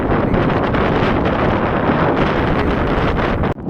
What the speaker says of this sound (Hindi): काफ़ी तेज़ ठंडी हवा चल रही है, बहुत तेज़ है।